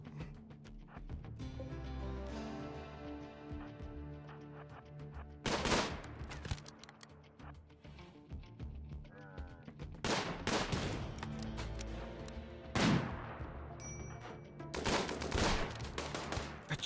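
Gunfire in a video game, including a sniper rifle: sharp, loud shots that burst out separately at intervals over a background of game music and ambience.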